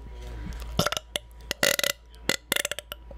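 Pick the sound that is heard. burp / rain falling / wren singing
burp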